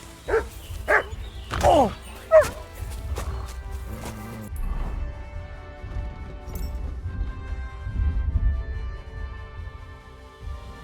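A dog barks in Kingdom Come: Deliverance II, a few sharp close barks early on, then a thud and clatter of a scuffle with shouting voices over a low rumbling game background.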